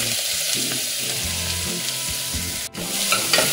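Onion, ginger and green chili with a pinch of asafoetida frying in hot oil, a loud continuous sizzle with stirring clinks and a brief sharp knock near the end, no voices.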